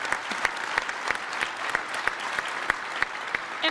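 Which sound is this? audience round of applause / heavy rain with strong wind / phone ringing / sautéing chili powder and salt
audience round of applause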